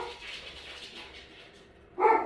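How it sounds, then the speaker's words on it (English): Dog barks and whimpers break out abruptly near the end, loud and close, after a quiet indoor stretch while a snowflake is being traced. "Sorry about the dogs, guys."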